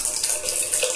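Water rushes steadily from a household shower head, a continuous close hiss and splash with no voices.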